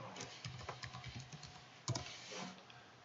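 Someone types a password on a computer keyboard, a quiet run of quick, uneven key clicks with a sharper tap near the end, the whole thing faint against a low room hiss.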